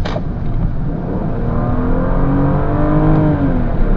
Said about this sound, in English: the most beautiful sound and ring to that engine I've come across in a long time